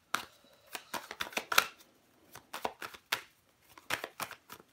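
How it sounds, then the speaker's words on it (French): Tarot cards are shuffled, handled and flipped over, producing irregular bursts of crisp card slaps and riffles with brief pauses between, close to the microphone and without talk. "On va recouvrir des cartes."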